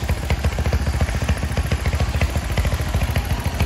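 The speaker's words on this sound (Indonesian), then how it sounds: "Mesinnya seperti ini ya. Ini lumayan halus" A Honda CB motorcycle engine runs at a steady idle, its rapid even low thumping pulses close and loud throughout, with no voices.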